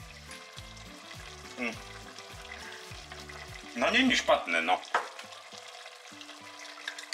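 Pork spezzatino sizzles and fries in a pan with a steady crackle, then louder bursts of stirring scrape and hiss through the middle; a person speaks briefly and soft music plays underneath.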